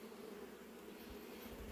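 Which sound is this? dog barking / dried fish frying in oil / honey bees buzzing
honey bees buzzing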